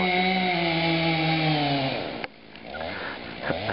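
A chainsaw whines loudly at high revs, then cuts off sharply and drops to a low idling sputter.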